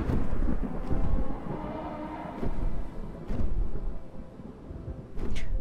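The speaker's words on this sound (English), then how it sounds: "these storms are spooky, but we're like giving water to the area" A thunderstorm in the video game RiME: deep, rumbling wind and thunder roll steadily, with a few sharper cracks breaking through the dense low roar. No one speaks.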